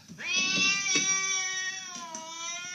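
A cat lets out one long, drawn-out meow up close, loud and whiny, with faint background noise.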